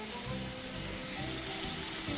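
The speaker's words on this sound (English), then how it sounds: "Always remember to listen for the sizzle sound." Bacon frying in hot oil in a pan gives a steady, faint crackling sizzle throughout, heard close up with no voices over it.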